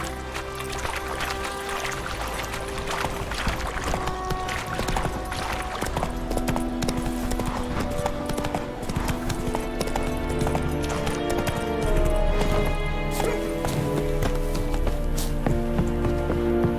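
A horse gallops in The Witcher 3: Wild Hunt, with steady rhythmic hoofbeats running throughout over a layered game soundscape and music.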